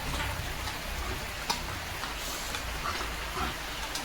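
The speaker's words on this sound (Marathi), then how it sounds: "पाऊस येतोय पाऊस येतोय" Steady rain falls with a soft, even hiss, a few louder drops ticking nearby now and then.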